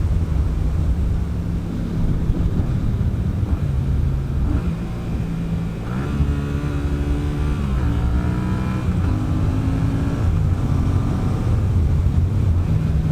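A motorcycle engine drones steadily under heavy wind rush while riding in sixth gear, then a brief throttle blip swells and falls midway for a rev-matched downshift before the steady hum returns.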